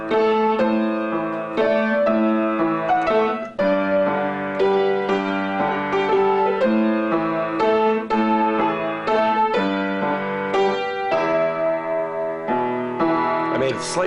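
Greensleeves arpeggios played higher up the neck of a guitar, a steady flowing stream of plucked notes in triple time, clear and close, with no talking over them.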